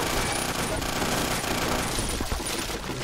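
Gunfire in the action shooter game 50 Cent: Blood on the Sand, a dense, continuous burst of automatic weapon fire with no let-up, loud and close throughout.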